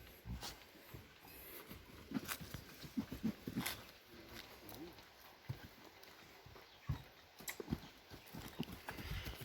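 Horse hooves clip-clop in a steady walking rhythm, close and clear, at a Kyrgyz horse showing of racing steeds, with a few louder hoof strikes and a soft background hum.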